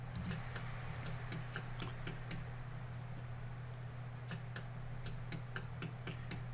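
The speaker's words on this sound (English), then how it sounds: "you can hear the relays energizing and de-energizing in time with the screen changes" Relay outputs click in a quick irregular series over a steady low electrical hum, faint but distinct, with brief pauses between clusters, energizing and de-energizing in time with screen changes.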